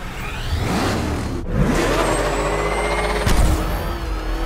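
A police squad car in pursuit during a Batman: Arkham Knight chase, its engine roaring and revving loudly with rumbling low end, a sharp break and a heavy thump near the end, no voices.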